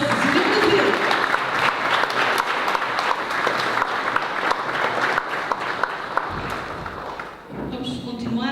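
Audience applause at an anniversary cultural evening of a philharmonic band society, dense steady clapping from a large crowd filling the room, fading briefly near the end before carrying on with some voices mixed in.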